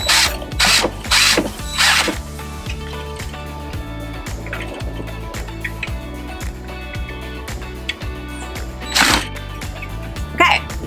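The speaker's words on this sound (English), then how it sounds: "So now I'm just gonna screw this in." A screw is driven into a wall to mount a curtain rod, with a steady run of regular ratcheting clicks from the driver, close up, and a few brief louder bursts at the start and end.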